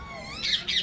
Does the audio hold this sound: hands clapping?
no